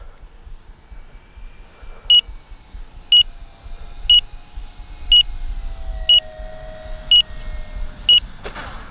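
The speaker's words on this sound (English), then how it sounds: "my timer is going off now" An RC transmitter timer beeps seven times at a steady one-second rhythm, sharp and clear over the hum of an electric model plane flying nearby, the E-flite EC-1500 on its maiden flight.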